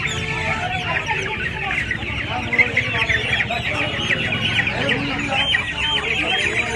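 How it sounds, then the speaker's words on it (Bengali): Chicks of an Australian chicken breed at a poultry market keep up a dense, steady chorus of high cheeping, mixed with nearby clucking from other fowl. "এখানে একটা অস্ট্রেলিয়া মুরগির বাচ্চা দেখতে পাচ্ছেন।"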